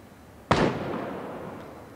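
A single sharp gunshot from a Type 05 gun in the video game Knives Out cracks out, followed by a fading echoing tail, with nothing else around it.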